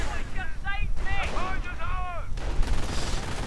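Gewehr 43 rifles fire a volley in a World War II strategy game, sharp bursts of shots scattered through the clip beneath someone speaking over the action.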